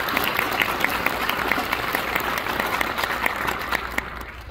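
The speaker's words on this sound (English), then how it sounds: "One more big round of applause, please," Sustained applause for a graduating class at a school graduation ceremony, steady dense clapping from a sizable audience, fairly close and loud with no talk over it.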